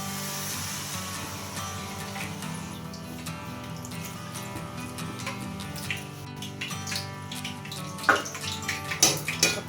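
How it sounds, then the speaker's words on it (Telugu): Water pouring steadily into a cooking pot with fried food at home, a continuous running gush with a few clinks of the pot near the end. "దీంట్లో వాటర్ వేసుకోవాలి."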